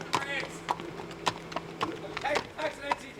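Horse hooves clip-clop in a steady, fairly close rhythm, with sharp repeated strikes and people talking over them.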